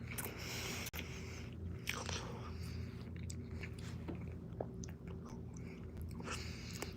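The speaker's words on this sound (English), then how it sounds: "I'm chewing super loud." Close, loud chewing and crunching on food, with wet biting and mouth sounds continuing steadily for several seconds over a noisy background.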